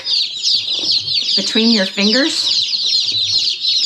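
Newly arrived baby chicks held in the hand peep in a steady high-pitched chorus close by, with someone speaking briefly over them.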